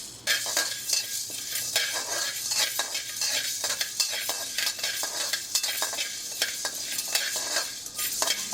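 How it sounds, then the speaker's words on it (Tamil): Fifty grams of black pepper dry-roasting in a pan for coriander masala powder, with a continuous rattling scrape of stirring and a soft sizzle, close and steady throughout. "மிளகு அதையும் அதே மாதிரி வறுத்துக்கிறேங்க"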